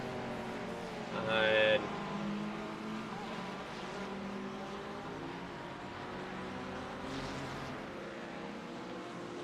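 GT3 race cars at Sebring, including Porsche, BMW, Ferrari and Ford, drone past on track at a distance, a continuous engine wash with one brief louder pass, under steady commentary.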